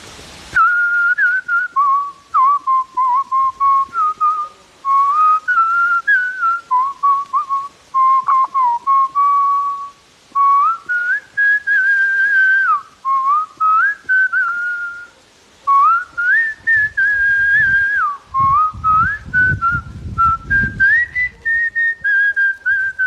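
A person whistles a Malayalam film song melody up close, loud and clear, phrase after phrase with short pauses between, and some low rustling near the end.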